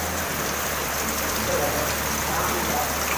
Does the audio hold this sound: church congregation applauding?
no